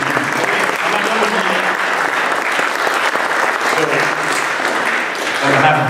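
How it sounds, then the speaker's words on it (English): Loud, sustained applause from an audience at a military academy lecture event, dense clapping filling the whole stretch with a few voices mixed in beneath it. "Let's give them another round of applause."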